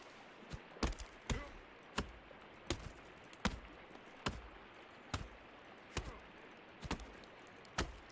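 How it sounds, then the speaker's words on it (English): An axe chops a tree in the video game Sons of the Forest, each sharp woody thwack landing roughly every three-quarters of a second, about a dozen strikes over a quiet outdoor ambience. "Chopping."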